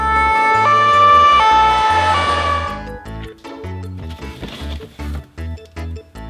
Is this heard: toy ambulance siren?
yes